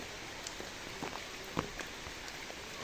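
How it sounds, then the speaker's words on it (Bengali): Heavy rain drums on a tin roof in a steady close wash, with scattered louder drops striking the metal near an umbrella. "প্রচুর বৃষ্টি হচ্ছে"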